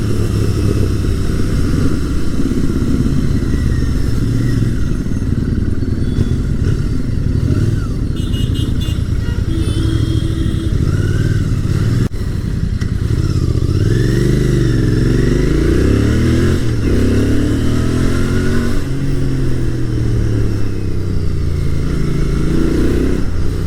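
A Royal Enfield Bear 650 scrambler motorcycle is ridden and accelerated, its twin-cylinder engine droning loud and close throughout while revs rise and fall across repeated throttle pulls and gear changes, with wind noise and no talking.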